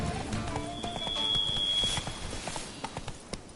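Roach the horse moves with close, quick hoofbeats and a brief whinny, hoof clops sharpening into distinct thuds toward the end.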